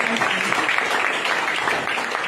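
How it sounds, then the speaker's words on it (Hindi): Loud, dense applause from an audience fills a short stretch as continuous clapping that holds at an even level throughout. "एक जबरदस्त ताली"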